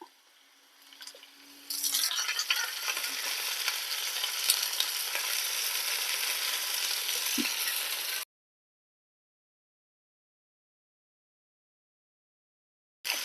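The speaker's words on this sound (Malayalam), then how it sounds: "ഇനി നമുക്ക് മുറിച്ച് വെച്ചിരിക്കുന്ന കറിവേപ്പിലയും മല്ലിയിലയും കൂടെ ചേർത്ത് കൊടുക്കാം" Curry leaves and coriander dropped into hot tempering for a green gram split salad: a loud burst of sizzling and frying that holds steady for several seconds, then cuts to silence before a brief return of the sizzle.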